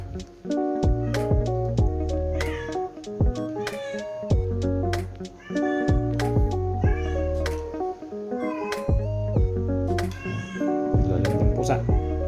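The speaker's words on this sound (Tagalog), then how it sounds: "Pusa." A cat meows loudly and insistently, over and over in quick succession, with strong, drawn-out cries that fill the whole stretch.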